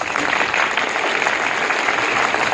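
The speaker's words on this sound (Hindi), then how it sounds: "चलिए इस बात पे एक बार जोरदार तालियां जरूर बजाते हैं।" Loud applause from an audience at a Republic Day gathering, a thick, even roar of many hands clapping close by with no break.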